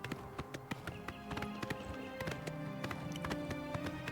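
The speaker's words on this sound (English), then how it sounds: "Although it keeps telling me that I'm riding Prior Maberyl's paint horse." Horse hooves clip-clop at a steady running gait while riding a paint horse through the Skingrad landscape in the video game Oblivion Remastered, with sharp regular hoof taps over game music and ambience.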